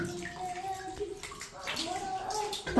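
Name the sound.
running water as a child washes his feet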